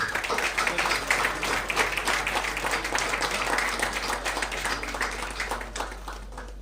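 Sustained applause from a conference audience welcoming a college principal at an engineering conference, dense steady clapping that fills the room throughout at moderate level, with a low hum underneath.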